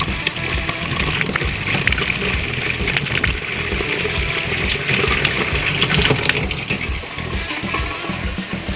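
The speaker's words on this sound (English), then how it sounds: "After letting the pipes cool down, I turn the water back on to the house." Water rushing through house pipes as the supply is turned back on after a utility sink replacement, a steady gushing hiss with sputtering, fluttery pulses, continuous and fairly loud throughout.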